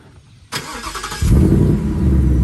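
A Ford Mustang Mach 1 with a 480-horsepower V8, already warm, starts by remote: a short burst of starter cranking, then the engine catches into a loud, steady, deep idle rumble.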